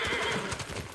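Horses in the Ghost of Tsushima game whinny and clop their hooves in a brief, close burst, the neighing and rapid hoofbeats overlapping loudly.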